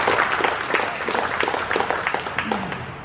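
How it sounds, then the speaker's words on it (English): An audience at a car show volunteer appreciation supper claps, a moderate steady patter of hands at middle distance lasting throughout without cheering. "And clap again."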